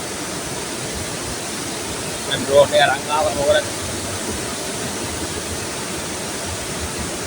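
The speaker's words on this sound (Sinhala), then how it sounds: "ඇල්ල තියෙන මගේ මේ දකුවත පැත්තේ." Sathmahal waterfall rushing as a steady, broad roar throughout, with someone talking briefly over it midway.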